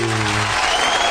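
A studio audience applauds, a dense, loud wash of clapping that holds steady throughout, with a brief voiced tone fading out at the start.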